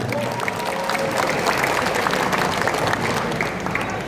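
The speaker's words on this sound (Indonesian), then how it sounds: "Tepuk tangan buat semuanya." Applause from a crowd at a political cadre gathering with Anies Baswedan, steady dense clapping that holds evenly throughout without a break.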